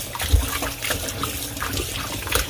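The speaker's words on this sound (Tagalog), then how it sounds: "Kakitchen, hugasan na natin ito ng malinis itong chicken thigh natin." Tap water running steadily in a kitchen sink while raw chicken thighs are rinsed, a continuous close trickle and splash with occasional louder spatters.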